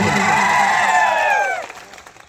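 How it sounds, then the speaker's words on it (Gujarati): A crowd at a political rally cheers and whoops loudly, the voices rising together and then fading away quickly. "રતનસિંહભાઈ માટે આપણે જોરદાર તાળીઓ પાડી લઈએ"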